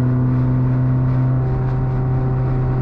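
Engine of an old car on a road trip being pushed harder under acceleration, a steady loud drone with a firm low hum whose pitch steps up partway through, heard from inside without talk.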